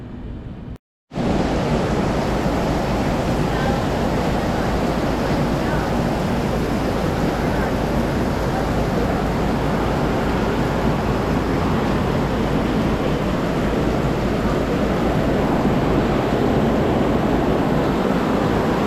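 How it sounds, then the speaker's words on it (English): A heavy summer rainstorm pours onto a Riverhawk B60 boat on the Winter Haven Chain of Lakes in Florida. A dense, loud, continuous hiss of rain and water roars unbroken after a brief silent gap at the start. "Just a typical summer rainstorm in Florida."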